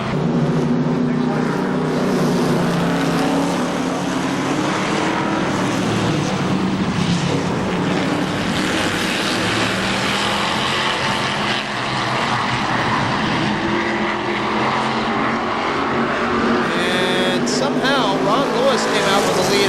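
Race cars at KilKare Speedway roar off together at a green flag start, a dense, steady engine din filling the whole clip at constant loudness, with a voice faintly present under the noise.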